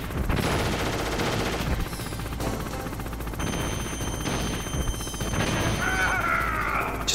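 Bursts of rapid gunfire crackle repeatedly, with machine-gun rattles and sharp single shots amid game effects and a whirring rotor-like hum, in a Metal Gear Solid video game.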